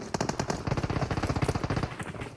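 Rapid automatic gunfire from the mobile shooter game PUBG Mobile, a continuous burst of sharp, evenly spaced shots at moderate loudness lasting a couple of seconds.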